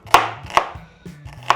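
Three sharp knife chops through onion onto a cutting board, evenly spaced about half a second apart, close and crisp with a low hum beneath.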